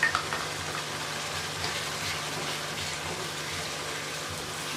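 Chicken karahi with chopped cabbage fries in a pan, giving a steady, close hiss and sizzle with faint stirring scrapes throughout and no talking.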